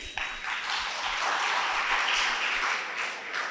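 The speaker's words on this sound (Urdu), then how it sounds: "میری بہن کے لیے زبردست تالیاں ہونی چاہیے" An audience gives a burst of applause at a religious speech gathering in Kurnool, a dense wash of clapping that swells and then eases off over a few seconds.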